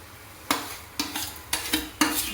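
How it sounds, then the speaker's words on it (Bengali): Roasted semolina being stirred into sugar syrup in a pan, with five distinct scraping strokes spaced roughly half a second apart, close and fairly quiet. "রোস্ট করা সুজিটা আমি দিয়ে দিচ্ছি"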